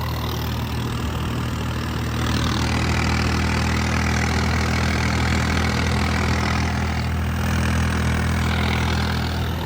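A Holland tractor hauling a sugarcane trolley runs steadily with a deep, throbbing rumble, loud and constant, swelling slightly after the first couple of seconds.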